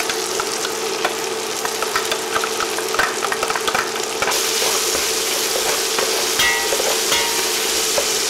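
Garlic and onion sizzle and fry in a pot for pork belly humba, a steady loud crackling hiss with scattered pops and stirring scrapes, continuing alone without speech.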